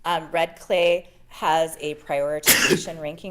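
A single short, sharp sneeze bursts out during a committee meeting while a person speaks nearby, breaking into their steady talk.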